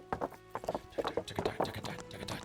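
Horse hooves clip-clop at a quick, steady gait in the medieval game Kingdom Come Deliverance, giving close, rhythmic, fairly soft hoofbeats over a brief stretch.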